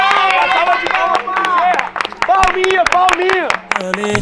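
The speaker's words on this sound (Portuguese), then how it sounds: "uma salva de palmas pro Bezerra aqui" A small group of young men claps loudly and closely for the funk MC Bezerra, with sharp uneven hand claps mixed with cheering and overlapping voices.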